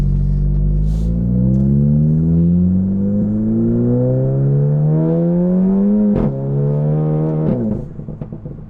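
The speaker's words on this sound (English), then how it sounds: "that APR catback sounds so good" An IS38 turbo-swapped VW Mk7 GTI with an APR non-resonated catback exhaust pulls hard, its droning note climbing steadily through the gears with quick shift breaks, then settling into a lower burble as it eases off.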